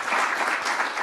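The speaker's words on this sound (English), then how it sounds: "let's give a round of applause to the administration" Applause from a room of state governors fills the whole second, a dense, steady clatter of many hands clapping at close range with no voices above it.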